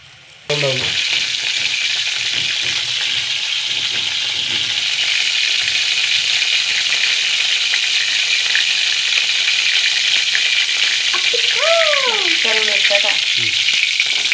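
Tempering spices dropped into hot coconut oil burst into a loud, close sizzle that starts abruptly and holds as a steady crackling hiss, with a few brief higher tones near the end.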